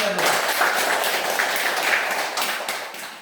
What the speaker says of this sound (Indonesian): Tepuk tangan untuk kita dulu.